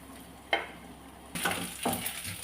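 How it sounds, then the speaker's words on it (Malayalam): Chopped coconut fries in ghee in a pan, giving a soft sizzle broken by scraping stir strokes that grow louder and busier partway through. "ഇത് നെയ്യിലൊന്ന് വറുത്തെടുക്കാമേ"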